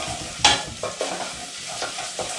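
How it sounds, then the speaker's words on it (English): Tomato paste cooks on low heat in a pan for Japanese curry and is stirred, giving several scraping spoon strokes over a soft, steady sizzle, with no talking. "So we're going to let this cook just for about a minute."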